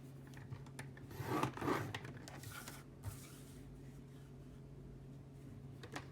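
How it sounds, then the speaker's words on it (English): Thick cardstock being scored along the bottom with a blade tool, a quiet scraping rub that swells briefly early on and then continues as a faint steady rasp, close up with no talking. "I'm going to score 3/4 of an inch all around"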